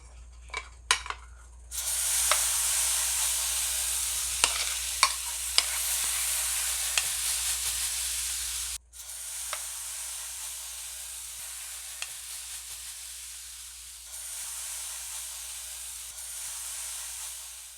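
Banana oat pancake batter sizzles in a hot pan, a steady bright hiss that swells after a few clicks and scrapes of the utensil, then continues with occasional taps and a brief dip partway through.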